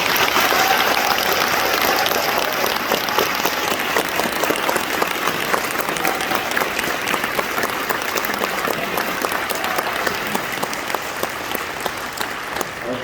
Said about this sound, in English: we all owe her a great round of applause and gratitude